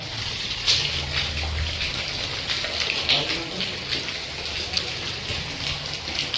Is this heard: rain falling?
yes